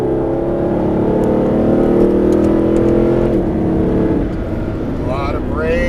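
Loud Mercedes SLS AMG engine held under throttle while cornering, a steady droning roar whose pitch shifts through the turn, with someone talking over it.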